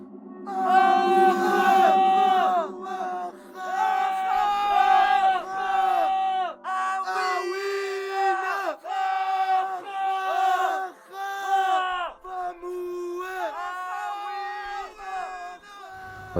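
Young men in Marseille cry out together in a sound artwork, with repeated loud, sustained group yells and whoops in bursts over about sixteen seconds, close and crowd-like.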